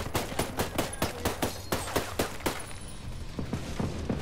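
Rapid gunfire in Ghost Recon Breakpoint, a fast string of sharp, evenly spaced shots that thins out briefly before resuming with a few more bursts.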